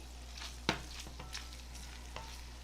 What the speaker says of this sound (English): what I'm doing now is I'm sauteing several strips of cut up bacon